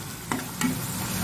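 Onions fry in ghee and butter with a steady sizzling hiss, punctuated by two quick utensil scrapes against the pan; no voices.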